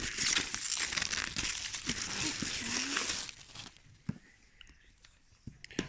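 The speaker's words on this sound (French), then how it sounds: "On va donc pouvoir ouvrir. Déballage en direct." A large, roughly A4-size packaged item is unwrapped, with loud close crinkling and tearing of packaging for about three seconds, then quieter scattered rustles and taps.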